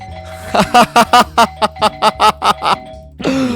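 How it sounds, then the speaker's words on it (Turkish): A neighbor's doorbell chimes over and over in a rapid, even series of bright tones, followed by a brief burst of voice. "Zil çalalım bir sürü."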